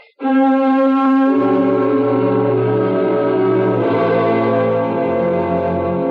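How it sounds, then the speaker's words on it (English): A large, deep-toned bell rings out loud and sustained in an old house at night, its long humming overtones swelling and layering as it tolls repeatedly without voices. "it's merely a gutter rat that rings the bell when it occasionally runs up and down the bell rope"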